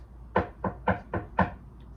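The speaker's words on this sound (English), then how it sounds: "then knocked on Auntie Birdie's door" Five crisp knocks on a door at a quick, slightly uneven rhythm, close and clear against a quiet background, used as a sound effect in a read-aloud story.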